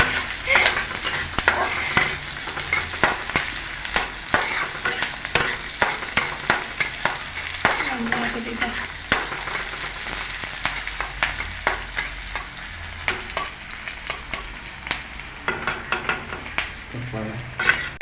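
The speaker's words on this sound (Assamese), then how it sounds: "এয়া পিঁয়াজ আৰু জলকীয়া দি দিছে।" Onions and green chillies frying in a wok, with steady sizzling and repeated scraping stirs from a spatula, close and continuous without talk.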